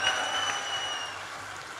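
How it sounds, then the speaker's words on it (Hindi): Audience applause at a Hindi comic poetry gathering, a steady wash of many hands clapping at moderate distance, continuous through the moment without voices on top. "ताली बजाओ, सांस लेना है।"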